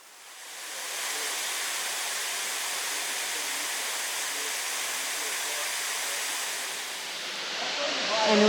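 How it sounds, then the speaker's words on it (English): A waterfall at Surprise Creek Falls in the Northern Territory makes a steady, close hiss-like roar that fades in over the first second and holds evenly, swelling slightly louder at the end. "And we have made it to Surprise Creek Falls"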